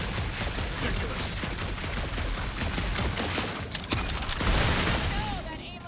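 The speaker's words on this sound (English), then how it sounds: "that aimless shooting isn't gonna scare the monsters away" Rapid gunfire in the video game Guardians of the Galaxy, a dense, continuous fusillade of shots layered with game effects, loud and sustained for several seconds with a few sharper bursts near the end.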